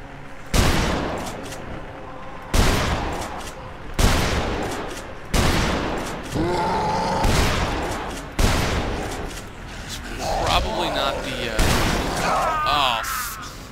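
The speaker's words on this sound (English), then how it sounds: "I have the deadly shotgun. Let's equip that." Deadly shotgun blasts in the video game Dead Island, loud booming shots fired one at a time at a steady pace of roughly one every one and a half seconds, each followed by a brief rumbling tail.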